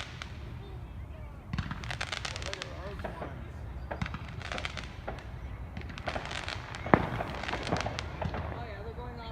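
Fireworks crackle and pop in dense, irregular bursts from many directions over a Victoria Day weekend night, with steady background rumble and people talking nearby.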